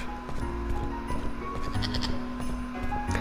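Goat bleating in the video game Suicide Guy, heard as a fairly loud, sustained call that runs through a short stretch of game audio and sits over a busy background of game sounds.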